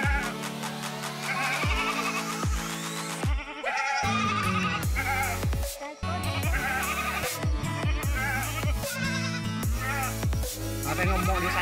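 A mother goat bleats repeatedly, calling for her kid. Loud, close, wavering cries come one after another in an irregular series, with almost no other sound between them.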